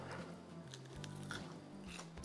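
Someone bites into crunchy, layered TikTok potatoes baked for 15 hours. The quiet, close crunches and crackles come in a short series with no talking.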